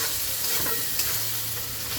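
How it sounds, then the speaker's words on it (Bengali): Ground red chilli, coriander and cumin masala sizzles in hot oil while being stirred in a pan for a chicken curry, a steady close frying hiss broken by soft scraping strokes. "মশলাটাকে নেড়ে দেবো।"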